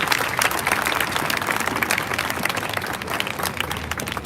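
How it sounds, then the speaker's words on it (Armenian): An audience at a candlelight gathering in Glendale gives steady, dense applause. The full-room clapping holds at an even level throughout, with no voices over it. "Եվս մեկ անգամ խնդրում եմ ծափահարել ռազմիկ Մանսուրյան"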